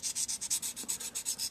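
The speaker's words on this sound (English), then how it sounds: "it's just a matter of continually sanding until you get" Rapid rhythmic rasping of sandpaper rubbed back and forth over a bead to wear through permanent marker, about a dozen even close strokes in quick succession, with no talking.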